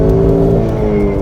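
A stock Ford Focus with a manual transmission revs hard as the clutch is dumped, giving a loud, steady, close engine drone for the whole moment.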